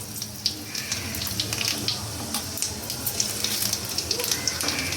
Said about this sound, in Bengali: তেজপাতা দিলাম প্রথমে, তারপরে গোটা জিরে দিয়ে দিচ্ছি